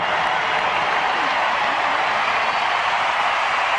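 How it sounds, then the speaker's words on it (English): Broad, steady crowd applause fills a sports stadium as the U.S. players turn to applaud their fans, a dense, even roar of clapping with no clear voices. "The U.S. players applauding their fans"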